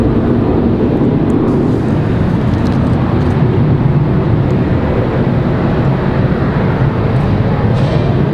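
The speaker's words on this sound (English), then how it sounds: "Got that exec jet departing over there on the other side." A business jet departs from Raleigh-Durham International Airport, heard as a loud, steady, broadband roar with heavy low rumble that holds constant from start to finish without fading.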